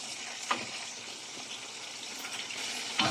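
Kikiam and chorizo stir-fried with pancit noodles in a pan give a steady, moderate sizzle, with a few brief scraping clacks from stirring.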